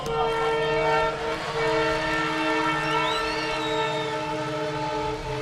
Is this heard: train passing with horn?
yes